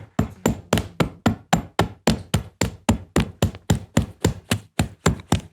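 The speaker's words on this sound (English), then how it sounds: "you just go back and pull out these staples" Ripper hammer striking repeatedly while pulling staples out of a sofa frame, about twenty sharp, evenly spaced knocks in a steady rhythm, close and fairly loud with no talking.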